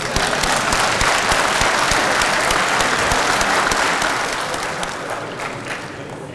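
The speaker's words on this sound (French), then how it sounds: "Vos applaudissements" Parliamentary audience applauding the Senate president, a loud, sustained round of many people clapping that fades gradually toward the end.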